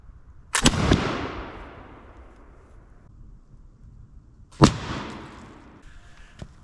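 A smoothbore musket loaded with a .69 or .71 caliber ball fires outdoors, giving two sharp, loud booms a few seconds apart, each followed by a long fading rumble.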